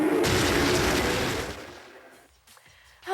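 Weapon fire in a Metroid video game, shooting slugs: a dense burst of blasts that fades away into near silence, followed by a sharp new hit at the end.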